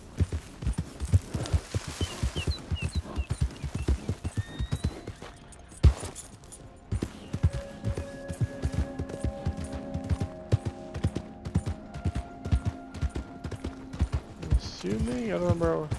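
Horse hooves clip-clop in Red Dead Redemption 2, a steady stream of close hoofbeats with rhythmic taps running throughout, mixed with other game sounds and brief tones near the end.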